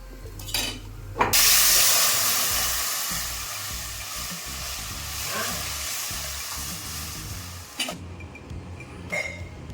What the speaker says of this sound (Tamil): மீன் போட்டு குழம்பு நல்லாவே கொதிச்சிட்டு